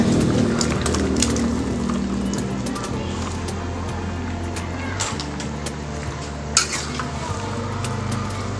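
Jackfruit being stirred into spices frying in a pan for gulai nangka, with a steady sizzle and scraping stir strokes running throughout, plus an occasional clink of the utensil against the pan.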